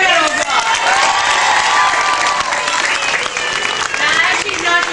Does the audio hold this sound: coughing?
no